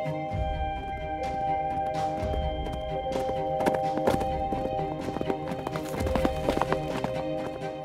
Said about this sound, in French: Partons avec l'étalon, suivons ses galops.